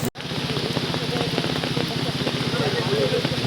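Rain falls steadily across an open-air Qurbani cattle market on the Circuit House field in Mymensingh, a dense continuous hiss with a low murmur of people beneath it.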